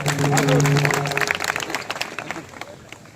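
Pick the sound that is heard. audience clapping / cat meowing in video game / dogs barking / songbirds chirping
audience clapping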